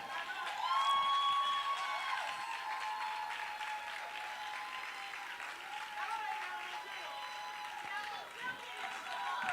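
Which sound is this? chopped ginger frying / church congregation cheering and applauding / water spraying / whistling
church congregation cheering and applauding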